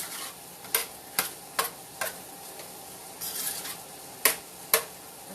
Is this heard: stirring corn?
yes